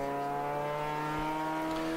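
Race car engine at part throttle on a road course's back stretch during a ChampCar endurance race, a steady held drone with clear harmonic tones, even and unhurried, no talk.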